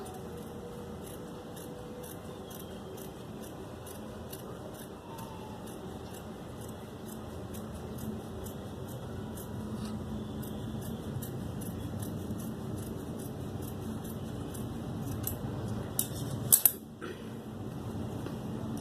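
Scissors cut a round neckline into fabric with a quiet, steady run of fine snipping strokes over soft background hum, followed near the end by a brief louder clack.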